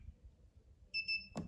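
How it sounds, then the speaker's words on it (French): Hornet MT-250 stringing machine: two short, faint electronic beeps in quick succession as its memory button is held, followed by a small click, in an otherwise quiet room. "je vais relaisser le doigt appuyé jusqu'au double bip sur le bouton Memory"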